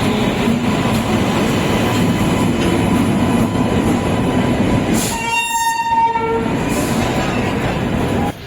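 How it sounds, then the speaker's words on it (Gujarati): The Jabalpur Somnath Express rolls through with a loud, continuous rumble of rail wheels, and its horn sounds as a short, bright blast midway before the rumbling carries on. "તો ગાઈસ ફાઇનલી આપણી ટ્રેન આવી ગઈ છે જબલપુર સોમનાથ એક્સપ્રેસ."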